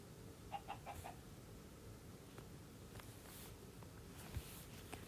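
Chickens in the Minecraft video game give a few short clucks early on, faint and brief over a low ambient background, with a couple of soft rustles and steps following.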